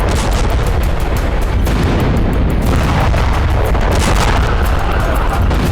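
Explosion caught on a shop's CCTV camera in the Ramat Gan area of Tel Aviv, a loud sustained roaring blast with dense low rumble and crackling bursts throughout, no voices.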